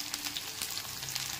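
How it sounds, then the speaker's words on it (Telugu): Okra pieces fry with onions in a pan for Bendakai Pulusu, giving a continuous soft crackling sizzle with scattered pops, fairly quiet and close, with no talking. "ఉల్లిపాయలు వేగిన తర్వాత బెండకాయ ముక్కలు కూడా వేసుకోవాలి."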